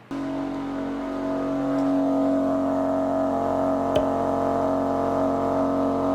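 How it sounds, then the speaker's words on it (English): Engine of a 2023 Maserati Grecale Modena luxury compact SUV, heard up close as a steady, loud, humming drone. The level lifts slightly early on, with one brief sharp click midway. "Iconic Maserati engine sound?"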